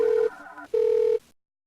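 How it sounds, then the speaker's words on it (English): A telephone rings in two clear electronic bursts separated by a short gap, close and loud, then falls silent. "The telephone rang. Again."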